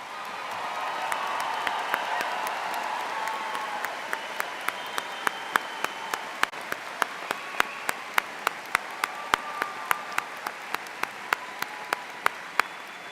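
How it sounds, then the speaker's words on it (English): A college commencement audience applauds graduating first-generation students, with sustained moderate clapping filling a large hall and a few sharper individual claps standing out throughout. "Please stand or raise your hand so that we may applaud your success."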